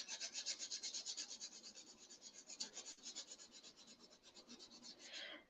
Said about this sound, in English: So just sand it a little bit.